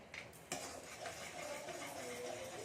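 Ground peanuts mixed with cardamom powder being stirred in a pot for peanut laddoos, a steady scraping and clinking of a spoon against metal, close and continuous with a sharp knock partway through.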